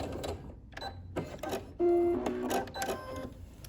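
A sewing machine stitches the binding on a hexagon quilt in short bursts of rapid mechanical clatter, with a brief steady whir in the middle, close and fairly quiet.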